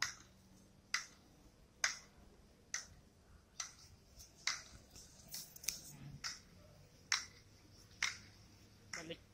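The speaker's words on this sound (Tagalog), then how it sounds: "Pumapalakpak-palakpak." People exercising outdoors clap at a steady rhythm, about a dozen sharp, crisp claps spaced roughly a second apart, fairly distant and soft, with faint talk and background noise between them.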